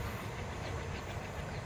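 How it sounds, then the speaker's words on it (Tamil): A passing train gives off a steady, dense rumble with broad hissing noise, continuous and fairly distant, with no distinct clacks and no voices. "ட்ரெயின் போகுது"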